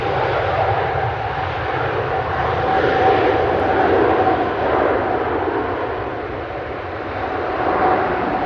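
An airplane landing at Manchester Airport, in the flare just before touchdown, gives a steady, loud broadband engine roar that holds throughout, with a faint tonal whine riding on top and no talk.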